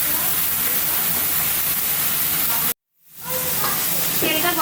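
Hot mustard oil for frying jackfruit hisses and sizzles steadily in a pan, broken by a brief dropout partway through before the crackling sizzle resumes.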